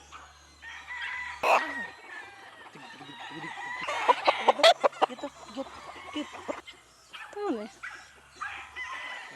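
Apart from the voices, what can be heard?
young rooster (gamefowl stag) crowing and clucking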